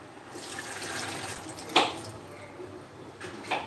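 Whisked tomato sauce made from powder dumped into a pot of chili, a soft liquid pour and slosh with a sharp clunk partway through and another near the end.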